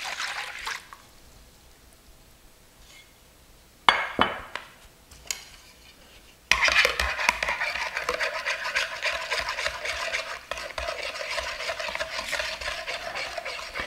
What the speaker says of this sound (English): And then mix that into the milk.